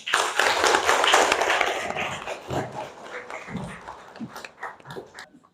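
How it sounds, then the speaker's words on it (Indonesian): Students in a classroom clap together in a burst of applause that starts loud and dense, then thins into scattered, fading claps. "Kasih aplaus"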